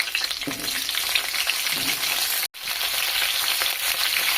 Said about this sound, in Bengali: ওই তেলের মধ্যে ফুলকপি যে কেটে রেখেছিলাম সেগুলো দিয়ে দিচ্ছি।